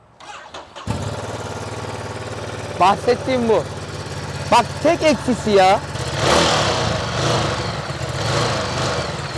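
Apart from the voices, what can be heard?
Ducati motorcycle engine stock exhaust sound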